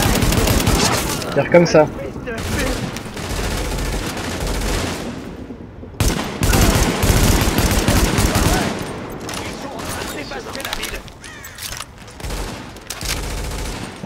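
Gunfire in Tom Clancy's The Division, loud bursts of automatic fire and sharp cracks in repeated volleys with short pauses, while someone talks in French over the shooting.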